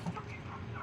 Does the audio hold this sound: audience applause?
no